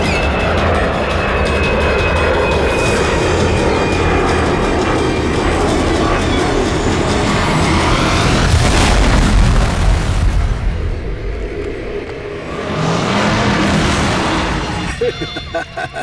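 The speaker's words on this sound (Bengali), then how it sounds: "এবার এই প্লেনটা পড়বে" Plane crash and explosion sound effect from a Bengali TV crime drama: a loud, roaring rumble builds to a heavy boom partway through, then the noise thins out and fades.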